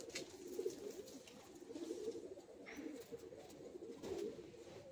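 A pair of adult Jiria chotiyal Madrasi pigeons cooing softly and repeatedly close by, low throaty coos rising and falling over faint background noise.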